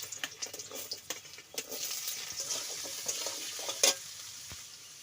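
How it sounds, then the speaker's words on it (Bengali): Potatoes hit hot oil in a heated wok (kadai) for a vegetarian aloo posto, setting off a brisk, close sizzle with stirring scrapes and one sharp metallic clatter near the end, no voices. "এবার আমি আলুগুলো দিয়ে দেবো।"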